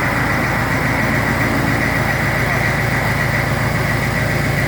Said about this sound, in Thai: ใช้เครื่องยนต์แท็กเตอร์นะครับปั่นปั๊มแล้วก็มา